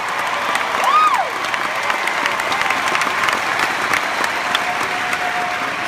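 An audience claps loudly and continuously through a single mother's testimony talk, with a few whoops and shouts rising over the steady applause.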